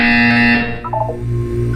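A buzzer in the video game Portal 2 sounds as a loud sustained electronic tone with layered harmonics, which fades into a lower steady hum with a few chirping blips.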